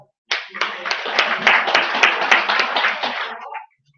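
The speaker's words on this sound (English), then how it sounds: "If you think you're going to make more money this year using RPR, start clapping" A seminar audience breaks into applause, many hands clapping in a dense, lively burst that starts abruptly, holds for about three seconds, then cuts off cleanly.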